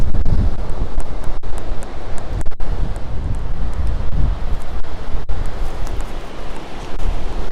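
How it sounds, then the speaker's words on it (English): Gusty wind buffets the microphone in heavy, low rumbling blasts, rising and falling unevenly and continuously with occasional sharp knocks. "It's suddenly become quite windy."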